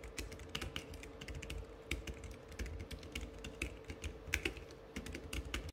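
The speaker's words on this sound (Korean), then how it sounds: "키감은 가볍게 날리는 키감인데 일단 통울림이 조금 있고" Someone types on a light, thin, folding keyboard for an iPad with quick, uneven bursts of soft key clicks. The clicks sound close and quiet over a faint steady hum.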